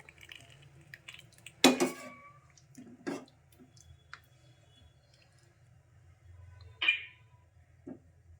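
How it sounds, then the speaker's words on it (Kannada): Sparse metal clinks and scrapes of a spoon stirring fried tempering into lentil dal in a pot, a few distinct knocks spaced several seconds apart over a quiet background. "ಈ ರೀತಿ ಹಾಕೋತಾ ಇದ್ದೀನಿ ಒಗ್ಗರಣೆನ ಮಿಕ್ಸ್ ಮಾಡ್ಕೋತಾ ಇದ್ದೀನಿ"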